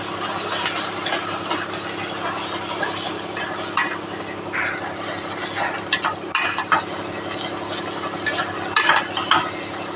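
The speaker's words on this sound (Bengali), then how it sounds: "এবার আমি মশলাটাকে ভালো করে কষিয়ে নেব" Spice paste of ginger, coriander, cumin, garlic, turmeric, salt and sugar being stir-fried in a kadai for restaurant-style chicken, with steady close scraping and stirring over a low sizzle, occasional sharper clinks of the utensil against the pan.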